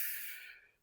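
One brief, close inhalation with a bright, airy hiss that fades within a second, drawn in during a standing ab breathing exercise.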